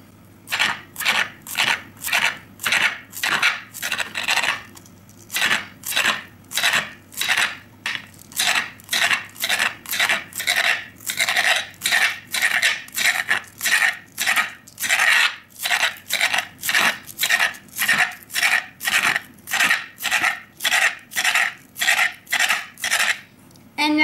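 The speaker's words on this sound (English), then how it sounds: "take your shallots and you can chop them up into little tiny pieces" A knife chops shallots into tiny pieces on a cutting board, a long steady run of crisp evenly spaced taps heard up close, with no voices.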